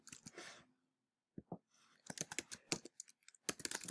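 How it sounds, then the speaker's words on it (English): Computer keyboard typing of quiz answers, quiet sharp clicks coming in a short burst, a pause, then rapid uneven runs of keystrokes, close and alone. "So I'm simply going to type them in."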